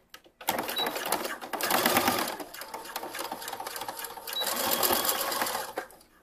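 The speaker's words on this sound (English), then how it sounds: "I'm just going to use a straight stitch here, because this seam really doesn't need to stretch right here" A sewing machine runs a straight stitch along a seam of a swim top, two loud sustained bursts of rapid mechanical whirring separated by a brief slowdown.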